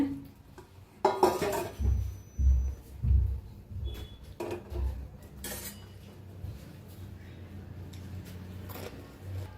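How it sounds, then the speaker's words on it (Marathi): Gulab jamun lifted out of sugar syrup into a sieve set on a plate, giving a run of soft metallic clinks and scrapes of a spoon against the sieve and plate, close and fairly quiet. "आता एका प्लेट मध्ये चाळणीत काढून घेऊया"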